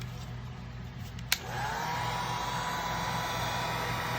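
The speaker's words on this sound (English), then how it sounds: "I'm gonna take a heat gun just to get it started and loosen it up a little bit" A heat gun softening the adhesive under a pitch decal on a Technics 1200 turntable, with a click as it switches on, then a steady close blowing hiss and fan whine that holds to the end, no voices.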